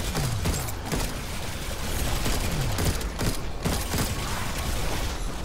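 Revolver fire in the video game Alienation: a dense, fairly quiet stream of shots with mechanical clicks and clatter under a busy wash of game noise, with no voices.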